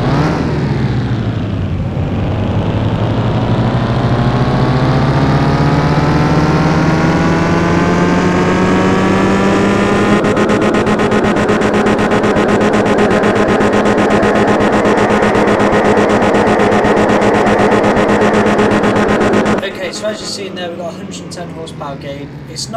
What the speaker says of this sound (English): now we're just in the dyno to see what power this actually makes